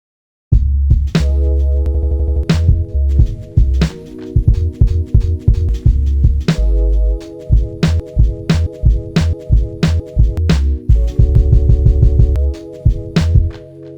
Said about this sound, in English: The last new effect is the snip loop.